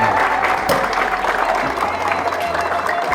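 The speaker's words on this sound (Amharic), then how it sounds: "ጭብጨባ ያስፈልጋቸዋል።" An audience at an awards ceremony breaks into sustained applause, a dense wash of clapping that stays loud for the whole stretch, with a voice over a PA running beneath it.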